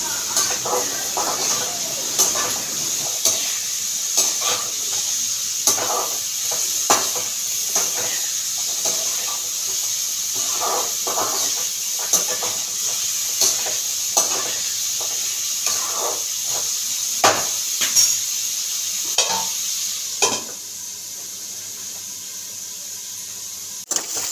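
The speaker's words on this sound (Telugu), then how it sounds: "సాంబార్ కోసం కందిపప్పు, టమాటీలు, పచ్చిమిరపకాయలు ఇవి అయితే ఉడకబెట్టుకుంటున్నా 2 ఆనియన్స్ వేసి" Toor dal, tomatoes, green chillies and onions boil for sambar, giving a steady steamy hiss throughout with faint clicks and soft bubbling ticks scattered across it, no talking.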